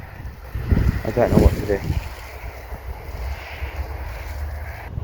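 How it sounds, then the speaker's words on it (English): Wind buffets the microphone outdoors at a paramotor race in the UK, a low rumbling roar running under a man's brief speech and continuing after it. "The wind seems to be coming predominantly from this direction now."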